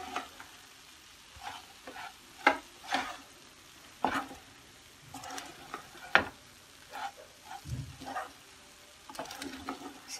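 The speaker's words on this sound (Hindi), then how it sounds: "हम इसे अच्छे से मिक्स कर लेते हैं।" Puffed rice laddu mixture being stirred in a pan with the heat off, giving repeated scraping and rustling strokes at an uneven rhythm, close and moderately quiet, with no talking.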